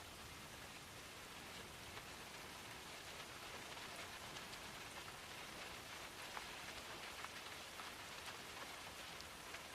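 Steady rain falls on surfaces, a soft, even patter of raindrops with faint occasional louder drips, continuous and distant-sounding with no voices.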